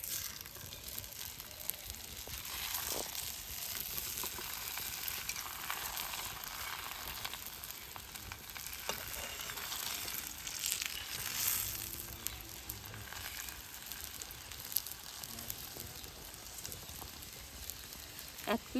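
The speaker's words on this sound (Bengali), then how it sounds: "এরকম খুন্তি দিয়ে পরোটাটা চেপে চেপে ভেজে নেব" A paratha fries in hot oil on a tawa, giving a steady, quiet sizzle with faint crackles and occasional scraping, continuous from start to finish.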